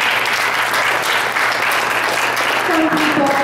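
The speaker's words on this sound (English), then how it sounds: "Can we give them a round of applause?" A career panel audience applauds the camp web team, a loud, sustained patter of many hands close by; a voice begins talking faintly over the last moments.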